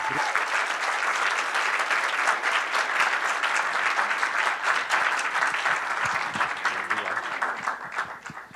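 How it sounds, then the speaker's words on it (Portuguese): Sustained applause from a large lecture audience welcoming a speaker, dense steady clapping filling the whole stretch before tapering slightly at the end. "É uma salva de palmas para recebê-lo aqui."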